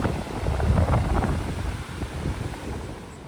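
Sea waves wash ashore at a beach by a hotel lawn in Mandarmoni at night, with a broad rushing surge that swells and fades, mixed with gusts of wind buffeting close by, and no voices.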